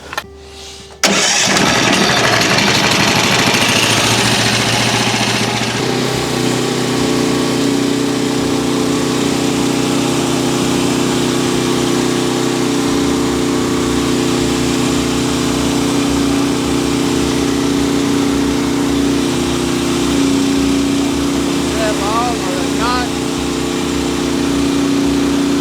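Engine of a Frontier OS23 portable sawmill starts up and runs steadily as it cuts through a knotty log, a loud continuous droning hum close by with no talk.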